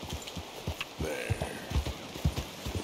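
Horse hooves clip-clopping in a steady, close walking rhythm as a rider travels at walking pace in the video game Red Dead Redemption 2, with a brief whinny-like sound partway through.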